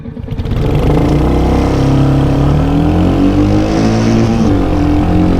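A Royal Enfield Shotgun 650 or Hunter 350 motorcycle revs hard during a 0-60 acceleration run and climbs steadily up to the rev limiter. The engine roar is loud, close and continuous, with rising harmonic tones and no voices.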